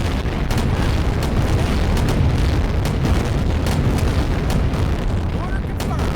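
A howitzer fires in a war video game, with dense, continuous booming and sharp repeated bursts crowding a loud battle soundscape throughout.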